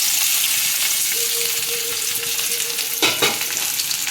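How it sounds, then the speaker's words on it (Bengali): Onion dropped into hot oil in a pan where chili and garlic were just fried, giving a loud, steady sizzle with a brief clatter of the utensil near the end. "এবারে এর মধ্যে দিয়ে দেব আমি পেঁয়াজ।"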